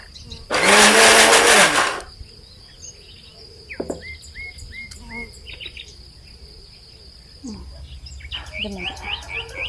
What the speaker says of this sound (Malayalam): നമുക്ക് മിക്സിയിലിട്ടൊന്ന് ക്രഷ് ചെയ്തെടുക്കാം അതാകുമ്പോൾ ഒന്ന് ഉടഞ്ഞു കിട്ടും